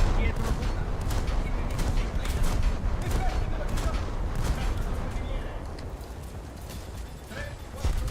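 Ship guns fire in a naval battle game featuring the destroyer Albatros: a dense, rumbling run of booming salvos that overlap continuously at moderate volume.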